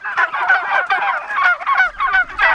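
Farm fowl, likely geese or turkeys raised as Thanksgiving birds at Polyface Farm, honk and call in a steady, loud, overlapping chorus close by.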